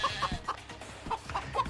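Cartoonish chicken clucks from the video game Moving Out, a few short close bursts in quick succession over a steady game background.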